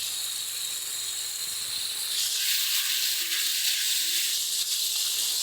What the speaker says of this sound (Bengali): সমস্ত কিছু দিয়ে মশলাটাকে ভালো মতন করে কষিয়ে নিচ্ছি।